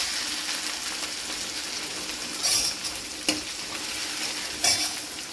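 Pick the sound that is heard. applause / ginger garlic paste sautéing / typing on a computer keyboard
ginger garlic paste sautéing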